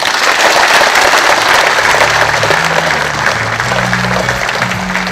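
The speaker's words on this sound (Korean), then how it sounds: "다시 한 번 더 큰 감사의 박수 부탁드리겠습니다." Sustained loud applause from a crowd at a public ceremony, a joint declaration event in Yeongcheon with religious leaders, continuing steadily throughout.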